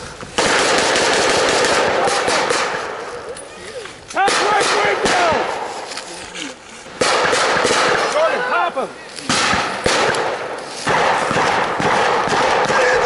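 Night battle at a WWII Operation Cobra re-enactment around a building, with loud close bursts of machine gun fire and rapid rifle shots in repeated volleys, brief pauses between, and voices shouting in between.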